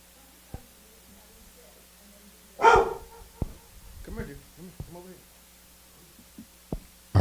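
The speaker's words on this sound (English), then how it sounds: "if I could just get that bark one more time" A dog in a home recording studio gives a sharp bark followed by a few softer yips and whimpers, scattered between short quiet gaps, with a low hum underneath.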